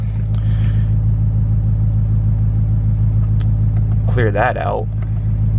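A diesel truck engine running at high idle, a steady loud drone with strong low harmonics throughout, with someone speaking briefly near the end.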